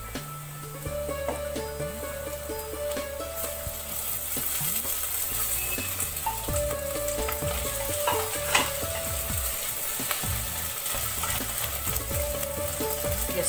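Onion fries in a pan with ginger, garlic and chili paste, giving a soft, steady sizzle with scattered scraping stirs close up, while musical tones run beneath throughout.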